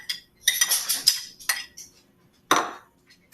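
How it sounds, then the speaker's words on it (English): A spoon clinks against a mug while scooping mashed banana and vanilla into it, a series of close, bright metallic taps and scrapes in irregular bursts with short pauses between. "I'm going to grab my spoon and I am going to put all of the banana and the vanilla into my mug"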